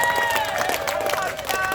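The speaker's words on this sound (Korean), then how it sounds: "다시 한번 이 두 분에게 큰 박수 부탁드립니다." Rally crowd applauding outdoors, dense clapping and cheering from many people, loud and sustained, with voices and a tonal sound running underneath.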